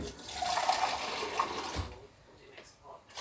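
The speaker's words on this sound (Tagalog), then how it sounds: "At ngayon, lagyan natin ng water." Water pours steadily into a cooking pot meant for boiling sweet corn, a rushing splash that lasts under two seconds before fading into quieter background sounds.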